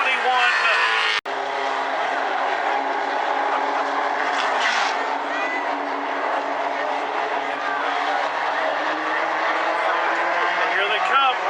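Light trucks race around South Sound Speedway, engines roaring in a continuous loud drone with a brief dropout early on and a surge as the pack passes, while an announcer talks over the track noise.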